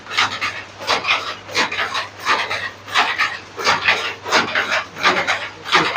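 A screw on a sewing machine is turned from below to raise the presser foot, producing close, repeated rasping creaks in steady pulses, about two per second, with no voices.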